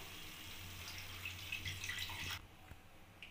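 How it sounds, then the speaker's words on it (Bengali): Water pours steadily into a pan of cashew and melon seed masala, a faint, continuous splash that stops abruptly, followed by a few quiet drips. "ওপর থেকে আমি জল দিয়ে দেবো।"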